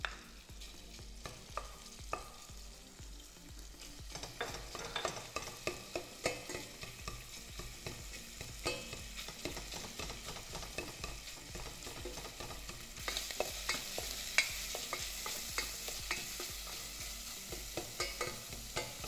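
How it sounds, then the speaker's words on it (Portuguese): Sausage fries and sizzles in a risotto pan while a utensil stirs and scrapes it, a steady crackle broken by frequent irregular knocks and scrapes, fairly soft and close, with no talking. "a gente começa a fritar, começa a ver que a linguiça vai soltando todos os pedacinhos"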